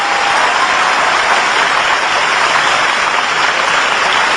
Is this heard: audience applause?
yes